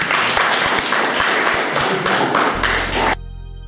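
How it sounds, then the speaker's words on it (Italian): Dense audience applause with sharp individual claps fills the room at an Italian event, steady and loud, then cuts off abruptly near the end into near silence with a low hum. "un applauso"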